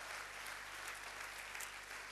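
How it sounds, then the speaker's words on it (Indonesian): A church congregation applauds during a sermon, a dense, steady wash of clapping hands with no voices over it. "Tepuk tangan buat Allah kita."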